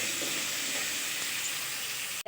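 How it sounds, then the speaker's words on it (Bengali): Potatoes frying in hot oil with salt and turmeric, a loud, dense, continuous sizzle and hiss heard up close, ending in a brief clatter at the very end, with no voices. "এবার ওই তেলে আমি আলুটাও ভেজে নিচ্ছি।"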